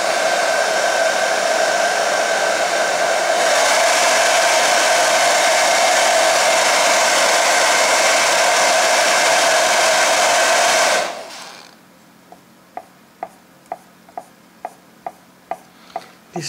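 A hair dryer blows heat onto a freshly repainted 1:87 scale model train, a loud steady whirring roar for about eleven seconds before it switches off, followed by a series of soft regular clicks.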